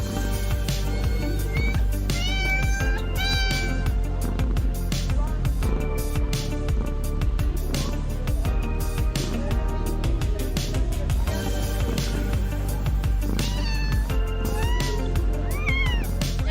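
Many cats meow and yowl at a busy cat show with hundreds of cats, including Persians, Maine Coons and Siberians, repeated overlapping cries over constant crowd hubbub and music throughout.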